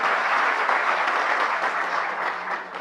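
Audience applause at a session on setting up CSC Aadhaar update centres, a steady, close wash of clapping from a crowd that holds for a few seconds and then tapers off slightly.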